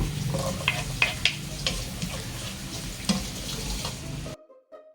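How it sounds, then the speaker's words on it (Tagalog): Chopped onion sizzling in melted butter in a pan, a steady soft frying hiss with a few stirring clinks and scrapes, moderately close, ending in a brief silence. "Lagay ko na po ang sibuyas."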